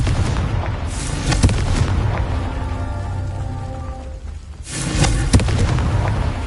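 A Confringo spell explosion in a Harry Potter video game during the Merlin trials, a loud rumbling blast that fades into a lingering tonal hum, then a second booming burst near the end.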